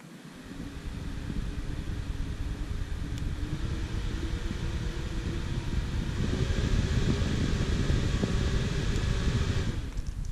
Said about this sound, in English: Make the microphone get air blow sound on it.